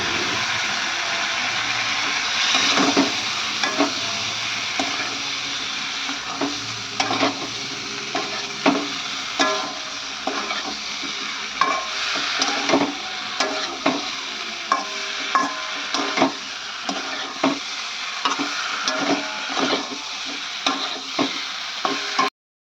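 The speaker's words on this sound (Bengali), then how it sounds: "সর্ষে আদা লঙ্কা দিয়ে ভালো করে মশলাটা কষানো হচ্ছে।" Potatoes and drumsticks with aubergine being stirred and fried in a mustard, ginger and chili masala, steady sizzling with repeated scraping stirs of a spoon in the pan, close and alone.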